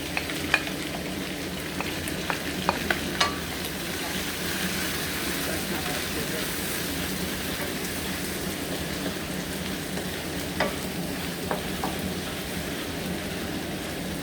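Onions fry in a pan for tinolang manok, a chicken soup, with a constant close crackling sizzle and scattered sharp pops, steady over the whole stretch with no talk.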